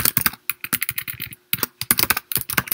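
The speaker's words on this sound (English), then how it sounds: "as I'm typing" Rapid typing on a computer keyboard, close and clear, with bursts of clicking keystrokes separated by brief pauses.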